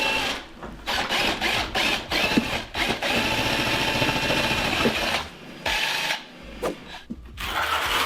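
A power whisk mixing tile adhesive during bathroom tiling whirs in bursts, with scraping and knocking as the paddle works through the thick mix, stopping and starting several times with short pauses.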